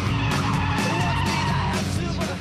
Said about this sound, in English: Drifting is when you put your car into a controlled skid around a bend